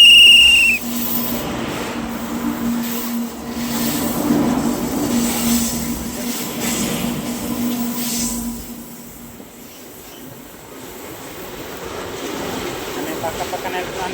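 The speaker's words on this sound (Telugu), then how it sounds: "ఆ ట్రైన్ వస్తుంది ఫ్రెండ్స్." A train passes close by with a loud, steady rumble of rolling wagons and squealing wheels, opening with a brief high whistle before the noise slowly fades and then swells again.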